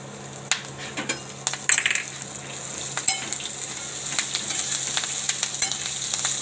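Green chillies drop into a pan of roasting peanuts and sizzle steadily up close, with a continuous frying hiss punctuated by light clinks and scrapes of a stirring spoon.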